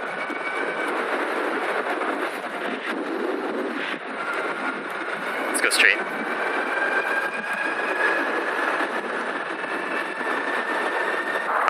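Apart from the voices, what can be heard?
loud electric motorbike motor while riding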